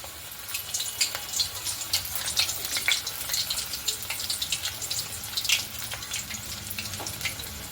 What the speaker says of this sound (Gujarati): આ રીતે આપણે બધી જ ગોળીને તળી લઈશું।